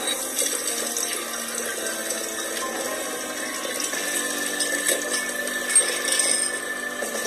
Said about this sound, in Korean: 병은 요 정수기물로 좀 헹궈.